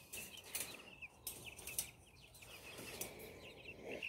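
Backyard birds kept at a camper homestead flap their wings in short soft bursts, with faint chirps and clucks scattered through a quiet outdoor scene.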